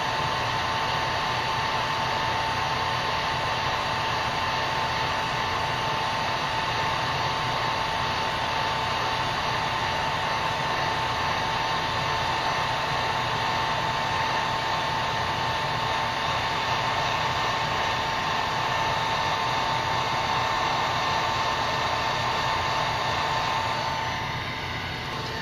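A heat gun blows continuously on a faded plastic part, a steady loud airy whoosh with a constant hum that holds for the whole stretch and tapers slightly at the end.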